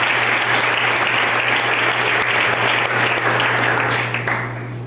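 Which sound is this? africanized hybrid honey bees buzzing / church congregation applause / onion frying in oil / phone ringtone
church congregation applause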